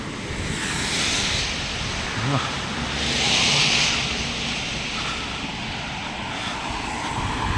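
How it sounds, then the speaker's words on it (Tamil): Traffic rushes past on a snowy street in Latvia, with steady broad roar swelling twice as vehicles pass close, fairly loud and continuous. "ஆனால் வண்டி சத்தம் தான் அதிகமாக இருக்குது"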